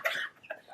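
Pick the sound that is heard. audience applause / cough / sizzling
cough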